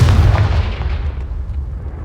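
Confringo spell explosion in a video game, one deep heavy blast with a decaying rumbling tail over about two seconds, loud and alone.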